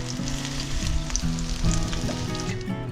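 Conch fritters fry in hot oil with olive oil added, cooked aboard a sailboat, giving a close, steady sizzle and crackle with small pops throughout.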